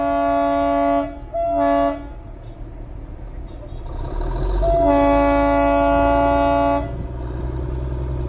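Darjeeling Himalayan Railway toy train at Batasia Loop, sounding its horn in two short toots and then one long blast over a low engine rumble, loud and fairly close.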